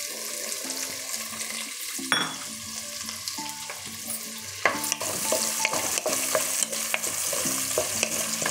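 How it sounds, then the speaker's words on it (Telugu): Chopped onions frying in hot oil for pav bhaji: a steady sizzle under repeated stirring and scraping, with occasional sharper clicks and clatters from the pan and spoon. "ఆయిల్ కాగిందండి. ఇప్పుడు మనం ముందుగా కట్ చేసి పెట్టుకున్న ఆనియన్స్ వేసుకోవాలి"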